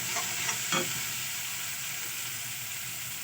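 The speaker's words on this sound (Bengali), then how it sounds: "আমি খুন্তির সাহায্যে টমেটোগুলোকে এইভাবে ভেজে নেব।" Chopped tomatoes with green chili frying in a pan for baigan bharta, a steady soft sizzle with a few quick scraping strokes of a spatula early on.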